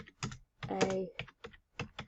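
Keys on a computer keyboard are typed in a quick, uneven run of soft clicks, close by, with a voice briefly heard among them.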